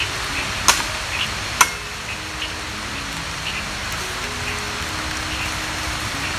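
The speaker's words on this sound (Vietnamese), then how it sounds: "Mới có 4 giờ mà mưa rồi mọi người ơi." Steady rain falls around a forest survival camp in the late afternoon, a soft continuous patter with a couple of sharper drop or tap hits near the start and no talking.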